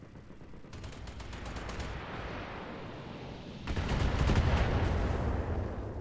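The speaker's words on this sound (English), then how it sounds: "you just keep firing those ballistics at me" Ballistic weapons on battling mechs in BattleTech fire in rapid bursts, a machine-gun-like rattle followed by a heavier, louder barrage of autocannon fire that swells and lingers, with no voices.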